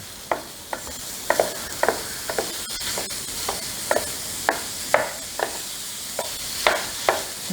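Ground beef hamburger frying in a pan on high heat while being broken up, giving a steady low sizzle with regular sharp scraping clicks of a utensil against the pan, close and without talk.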